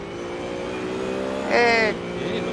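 BMW GT3 race car driving on a track during a GT3 race, a steady engine drone throughout that swells into a louder, higher whine for about half a second before settling back.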